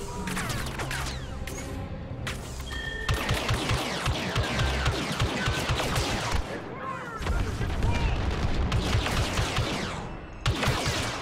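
Blaster gunfire in the Star Wars Battlefront 2 video game, dense bursts of rapid shots and explosive cracks in near-continuous volleys with a few brief gaps, loud and close, with a player's voice occasionally mixed in.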